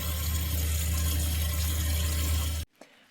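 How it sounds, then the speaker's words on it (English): Water runs steadily from a hot-and-cold faucet into the kitchen sink of an all-season adventure camper van, a close, even hiss that cuts off abruptly near the end. "This faucet will run both hot and cold water."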